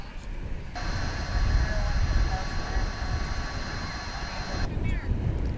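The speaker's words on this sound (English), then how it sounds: "Now, a plane, American Flight 777." An American Airlines jet on final approach to land at DFW International Airport drones steadily with a sustained engine whine over wind rumble, loud and continuous throughout, then a short voice at the end.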